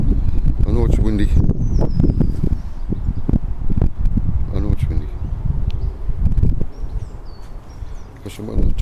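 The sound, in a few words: wind blowing on a hilltop in the countryside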